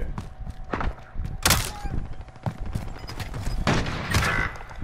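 Sniper rifle gunfire in the video game Call of Duty: Warzone, several sharp loud cracks spaced irregularly among quieter thuds and game noise.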